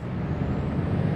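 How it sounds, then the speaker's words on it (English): A truck's parking air brake in Euro Truck Simulator 2 lets out one brief, loud, breathy hiss of released air over the low engine rumble. "must have put my parking brake on by mistake"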